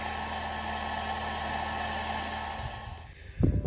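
A hair dryer blows on frozen levers in winter snow with a steady, close whirring roar that cuts off near the end, followed by a few brief handling bumps.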